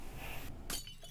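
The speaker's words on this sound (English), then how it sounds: "Shards of glass crashed into the room." Window glass shatters in a video game: a sharp burst of breaking glass rings out near the end of a short, busy stretch of game noise, with bright tinkling shards trailing after the crash.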